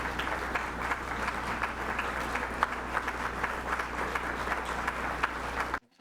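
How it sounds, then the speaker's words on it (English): Sustained applause from a seated audience at a Rotary club program featuring PeaceTrees Vietnam, steady clapping filling nearly the whole span before cutting off abruptly at the end. "Let's give them a round of applause."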